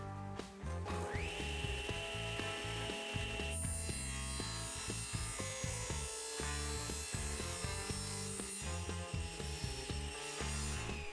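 A table saw cutting a wooden piece, the whining blade running loud and steady with a rising pitch early on and repeated knocking, chattering bursts as the wood feeds through, no voices.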